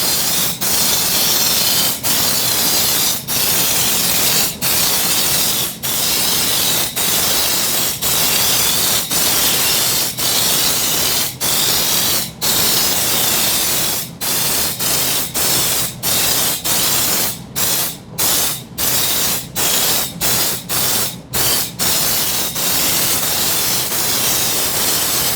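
Steady, loud hiss of an air spray gun at 50 to 70 psi applying Mopar undercoating to a vehicle, running continuously with brief gaps and sharp stops near the end.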